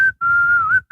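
A single clear, high whistled tune, close and loud, holding a steady pitch with a slight dip before breaking off briefly and starting again.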